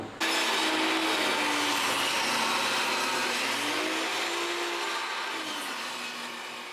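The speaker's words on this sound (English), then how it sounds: "I'd rather this saw cut this push stick than my hand." A power saw cuts a 2x6 board fed with a push stick, giving a loud, sustained whine that starts abruptly and holds with slight pitch shifts before tapering off at the end.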